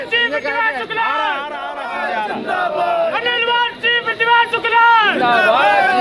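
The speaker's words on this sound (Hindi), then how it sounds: "कार्यकर्ता वहां पर नारेबाजी भी कर रहे थे।" Party workers chant slogans outside a police station, a dense crowd of voices shouting in rhythmic, overlapping bursts that stay loud and continuous throughout.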